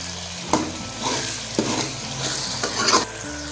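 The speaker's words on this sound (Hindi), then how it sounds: "अभी हिला लेते हैं, मिक्स कर लेते हैं।" Green beans and boneless chicken frying in a pan while being stirred and mixed, with a steady sizzle and several scraping utensil strokes at a loose, uneven rhythm, close and moderately loud with no talking.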